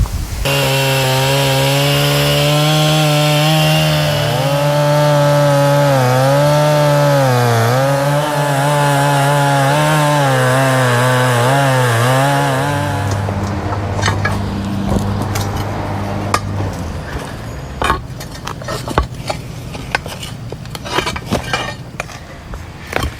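A chainsaw whines loudly at close range, its pitch wavering as it bogs into a tree root, then drops into rough grinding and clattering bursts.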